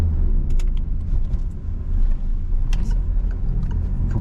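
A car engine pulling in second gear during a learner's driving lesson, a steady mid-pitched hum with light rumble and faint clicks inside the cabin.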